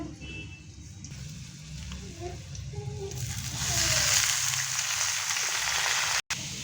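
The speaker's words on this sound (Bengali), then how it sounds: "কেটে রাখা গাজরগুলো দিয়ে দেব ওর মধ্যে ভাজাটা হয়ে গেছে" Sliced carrots and green chillies fry in hot oil, a soft steady sizzle that swells louder in the latter half, with faint clatter over the hiss.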